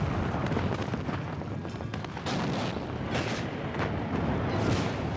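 Anti-tank guns firing in the WARNO wargame, a dense barrage of heavy booming shots and blasts overlapping in rapid irregular succession, loud and close with rumbling battlefield noise between reports.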